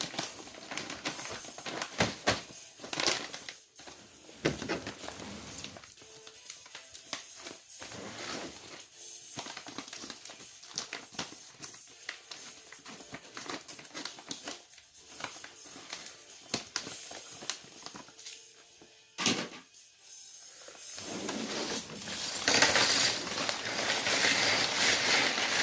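Scissors cutting open a package of new items during a sorting session, heard as a long run of close, irregular crackly snips and rustles with brief pauses between bursts.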